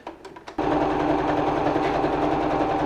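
A sewing machine stitching a fabric face mask: a few short taps, then a loud, steady, fast mechanical whir running without pause.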